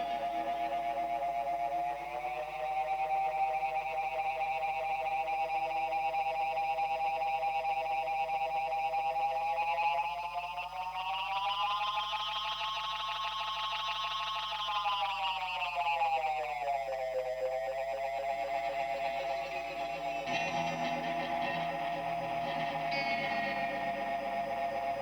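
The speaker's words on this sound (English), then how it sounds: "deliberately manipulating the repeat rate control during playback would result in sudden raising or lowering of the pitch of the echo repeats" Vintage tape echo unit with its repeat rate control manipulated during playback, making echo repeats sweep smoothly up and down in pitch, a continuous warbling, otherworldly spaceship-like tone with dense layered repeats, loud and sustained.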